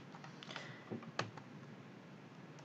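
Soft, quick keystrokes on a computer keyboard tap out a short burst of typing, faint and close against a quiet background, with one slightly sharper click.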